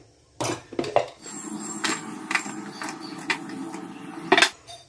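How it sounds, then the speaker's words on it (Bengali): A hand chopper working on onion, tomato and garlic in a home kitchen: a series of close, sharp plastic-and-blade clacks and thumps in an uneven rhythm, with no talk. "হ্যান্ড চপার আছে আমার, ওটাতে দেব"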